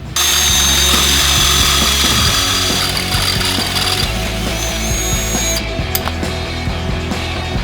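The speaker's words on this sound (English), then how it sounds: "strap it in, we're going to drill it out for the correct size bolt" A power drill grinds steadily through an aluminum turbo drain fitting, loud and close, with shifting whine and rattling mechanical noise throughout.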